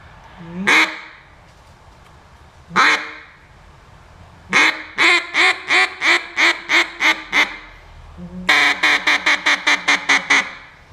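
A duck call blown to imitate a mallard hen: two single quacks, then a rapid descending series of loud quacks, repeated again.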